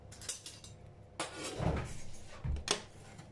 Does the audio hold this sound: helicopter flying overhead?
no